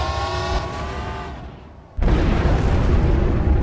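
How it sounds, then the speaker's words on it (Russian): A nuclear missile strikes in the strategy game Planetary Annihilation. A fading tonal hum drops away, then a sudden, loud, wide blast hits and holds as a dense, roaring rumble to the end. "Потом на последних 5 секундах прилетает ядерка."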